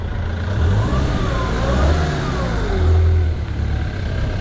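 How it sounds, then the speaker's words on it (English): A tractor engine runs steadily in the background at a farm or yard setting, rising and falling slightly in loudness with a low rumbling drone and no talking. "you probably hear the tractor in the background now"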